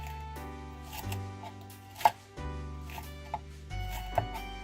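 A knife cutting green peppers and onions into cubes on a cutting board, a few separate sharp chops standing out over a steady low hum with no talking.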